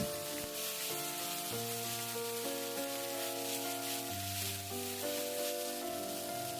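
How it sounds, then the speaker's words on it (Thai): Pink fried rice stir-fried with red sauce in a wok, a steady sizzle running throughout beneath a prominent tonal music bed, with no talk. "ผัดคลุกเคล้าให้เข้ากัน จนซอสแดงกระจายไปทั่ว"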